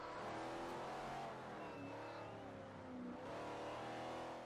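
A C-Class car in the Forza Horizon racing game accelerates, its engine note rising and falling steadily throughout, heard alone at moderate volume.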